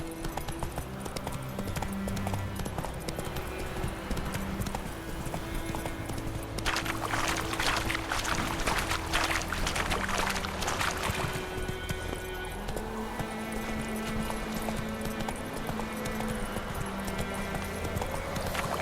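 Steady horse hooves clip-clop on a path in The Witcher 3 game, a continuous rhythmic trot heard up close with light ambient music and no talk.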